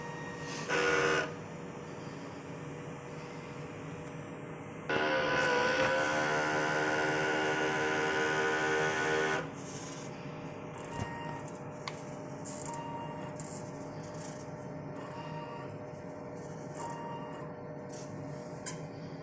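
An inkjet printer runs its normal cleaning cycle, giving a loud mechanical whir with rhythmic ticking and buzzing tones that swells for several seconds, then settles into quieter intermittent clicks and motor hums.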